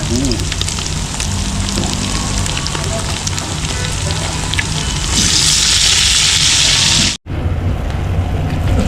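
Eggs frying in a pan for a village-style blood fry dish, a loud, dense, continuous sizzle close up that swells brighter toward the end before a sudden brief cutoff.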